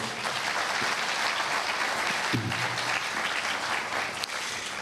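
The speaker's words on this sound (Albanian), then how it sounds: "Një duartrokitje për gjithë ekipin, po besoj." An audience applauds the documentary team at the premiere ceremony of a television documentary, sustained dense clapping from a full room with a brief murmur of voices partway through.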